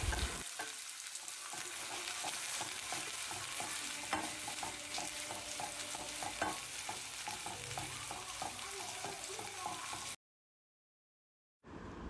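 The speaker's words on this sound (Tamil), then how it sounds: "வெங்காயம் நல்லா சாஃப்டாக குக் ஆகிற வரைக்கும் வதக்கிக்கலாம்" Chopped onions sautéing in sesame oil with spluttered mustard seeds for a tomato-onion thokku, a continuous crackling sizzle with light stirring scrapes throughout, then a sudden cut to silence before a brief return.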